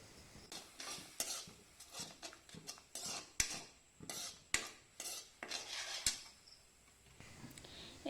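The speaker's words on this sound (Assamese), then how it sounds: "ইয়াতে দি অলপ সময় মই লৰাই লৈছোঁ" A spoon stirs ginger, garlic, black pepper and turmeric together in a cooking pan, giving a string of close, uneven scraping and clinking strokes with a light sizzle underneath and no talking.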